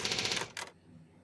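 A typewriter from the Resident Evil 3: Nemesis video game gives a brief, quiet burst of rapid clattering keystrokes, then stops abruptly.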